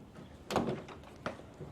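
A large accordion door opening onto a backyard, sliding and folding in two short rumbling bursts with a faint rattle between them, fairly quiet and close, no talk.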